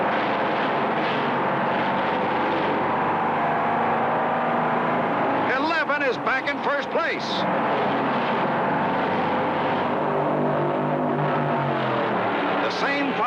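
1967 stock cars roar around Daytona in a qualifying race, a steady loud engine drone with a pack of cars sweeping past in rising and falling whooshes, under a commentator's voice.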